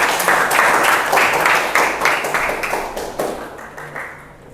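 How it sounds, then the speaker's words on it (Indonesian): A class of students claps for classmates who just presented, the sharp hand claps loud and close, falling into a loose rhythmic beat before thinning and fading out. "Beri tepuk tangannya untuk teman kalian."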